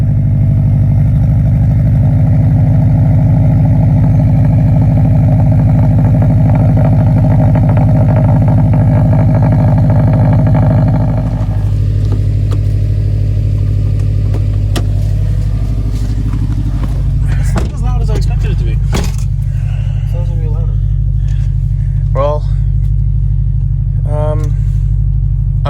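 A Subaru WRX with an Invidia catless downpipe idles loudly and steadily with a deep, constant drone; partway through the tone drops and thins, with brief clanks and voices talking over it.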